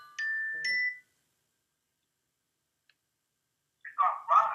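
A phone ringtone plays two short bright chime notes during a sports talk show, followed by silence and then a voice answering.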